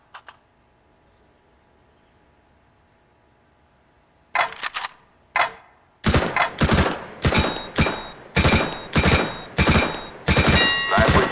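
Counter-Strike rifle shots fired through a piece of wood, starting with a few isolated sharp cracks after quiet, then a steady run of about nine evenly spaced loud shots, each with a short ringing tail.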